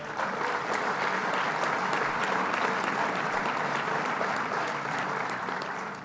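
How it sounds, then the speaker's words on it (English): Audience applause for New Jersey governor Phil Murphy during a state budget address, a dense, sustained ovation filling the hall at an even level from start to finish. "let's give him a round of applause."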